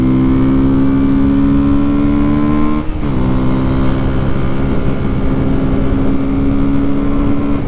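A 2019 KTM Duke 125 motorcycle engine revving loud and close, its steady buzzing drone holding high, with a brief dip as it shifts before climbing again.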